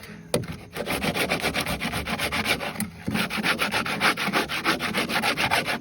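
A coarse-toothed rasp files across a raised all-wood floor in quick, rhythmic back-and-forth strokes. The gritty rubbing is loud and close, broken by a couple of brief pauses.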